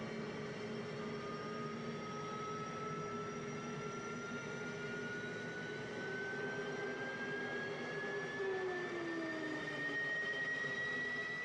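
An F-15E jet engine running in DCS World gives a steady, moderately quiet whine and roar with tones that slowly rise and shift as it spools, continuous for about eleven seconds with no talk.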